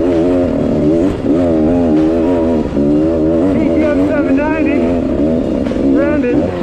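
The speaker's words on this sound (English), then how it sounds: "Up there is the fastest adventure bike I've ever seen" A fast adventure motorcycle roars loudly nearby, its engine revs climbing and dropping in repeated waves, with a voice talking over the engine noise.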